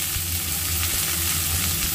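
Chopped onion and garlic sizzle in hot oil, a steady, loud crackling hiss heard up close without pause or speech.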